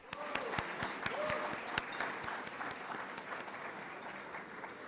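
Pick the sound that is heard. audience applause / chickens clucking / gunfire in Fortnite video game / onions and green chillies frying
audience applause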